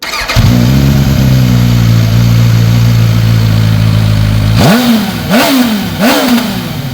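A QJMotor SRK921RR sport motorcycle's inline four-cylinder, liquid-cooled engine idles loudly up close, a steady rumble, then revs sharply three times in quick succession.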